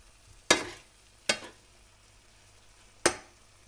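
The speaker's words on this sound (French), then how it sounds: "On va touiller. Là, vous voyez, ça commence à prendre." Three sharp scraping strokes of a utensil through masala frying in a pan, spaced unevenly over a faint background sizzle, close and with no voices.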